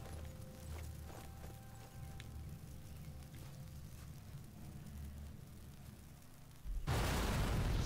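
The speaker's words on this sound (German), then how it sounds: "So, das Flugzeug haben wir jetzt gesprengt." A satchel charge blows up a plane wreck in the video game Sniper Elite 4: quiet in-game ambience gives way to a sudden loud blast that roars on to the end.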